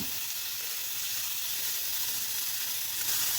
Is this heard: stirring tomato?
yes